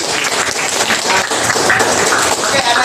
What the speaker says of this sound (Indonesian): Oke, tepuk tangan buat April.